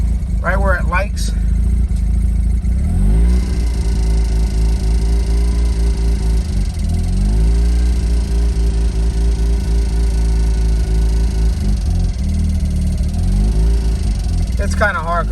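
A Mazda RX8 rotary engine holds a loud, rough idle, then rises in pitch in several rev swells before dropping back each time.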